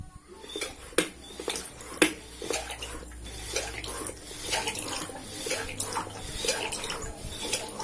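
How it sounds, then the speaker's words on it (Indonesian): Water runs from the tap of a Kenmaster drinking water pump fitted to a gallon bottle, a soft uneven trickle with a couple of clicks and small clatters nearby. "Airnya sudah keluar tapi belum lancar, mungkin masih belum rapat dipasang."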